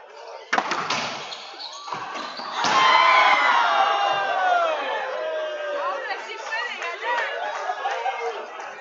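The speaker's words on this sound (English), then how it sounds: "Might be able to hear the excitement of the crowd." Spectators at a doubles racquetball semifinal at a Christmas tournament in an indoor club, with sharp ball and wall impacts followed by rising crowd cheers, shouts and chatter that stay lively throughout.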